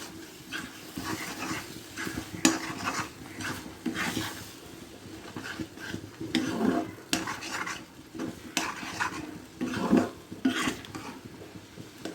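Condensed milk is stirred together with other ingredients in a pot for banana chira sondesh, making repeated soft scraping and clinking of a spoon against the vessel at close range, with uneven rhythm and no talk.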